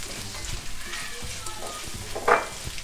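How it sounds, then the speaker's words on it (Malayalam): Chopped tomatoes hit a pan of onions and sizzle, giving a soft, close frying hiss with a few brief stirring knocks and one sharper spatter near the end. No voices are heard. "ചോപ്പ് ചെയ്ത് വെച്ചിരിക്കുന്ന ടൊമാറ്റോ ഇട്ട് കൊടുക്കുക"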